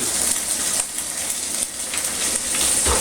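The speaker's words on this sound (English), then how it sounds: "Now I've got it frying a little hot so we can get done pretty quick." Bologna fries in a hot cast iron skillet with a loud, steady sizzle and crackle, close up, with brief scraping near the end.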